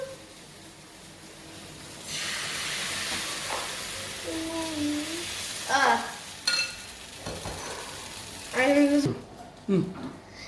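Eggless pancake batter sizzles in a hot pan with a steady hiss, joined by occasional scraping and clattering; someone talks over it at intervals.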